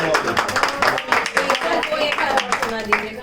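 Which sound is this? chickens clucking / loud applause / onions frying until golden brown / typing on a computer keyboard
loud applause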